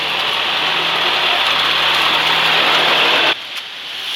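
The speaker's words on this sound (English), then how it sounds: "Would you like to drive a tractor clearing the snow?" A tractor clearing snow in a small Russian town runs with a loud, steady engine roar and broadband noise that cuts off abruptly near the end, leaving quieter background.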